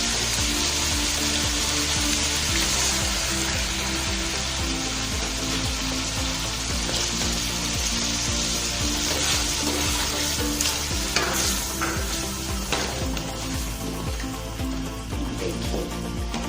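Chicken pieces fry with yogurt and green chillies for chicken malai boti, making a loud, steady, close sizzle with stirring scrapes throughout and no talking.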